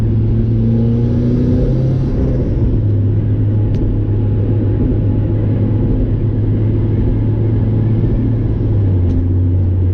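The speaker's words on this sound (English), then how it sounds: "Man, that top makes some wind noise." Steady roar of wind buffeting the soft top of a turbo Mazda Miata with a worn seal, blended with a low engine drone throughout, loud and close from inside the moving car.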